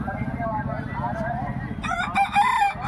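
A black fighter rooster crows at a busy Bangladeshi poultry market, the harsh harmonic call rising loud and near over constant crowd chatter and market noise.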